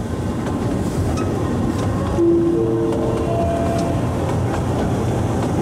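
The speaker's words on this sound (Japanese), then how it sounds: "車輪と列車からキーキー音が鳴ります。" A Kurobe Gorge Railway trolley train rumbles along the tracks in a steep gorge, and midway its wheels let out thin, high squeals against the rails that linger for a couple of seconds.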